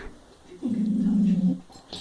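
A dog whines in a single drawn-out, low, tonal whimper lasting under a second, fairly close, on a bonfire night indoors, with quiet room noise around it.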